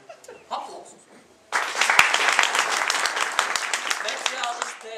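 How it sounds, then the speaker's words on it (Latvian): Applause breaks out at a ceremony introducing naturalization commission specialists in Latvia, loud sustained clapping from a crowd that starts suddenly and continues steadily, with a few scattered voices before it begins. "Aplausus."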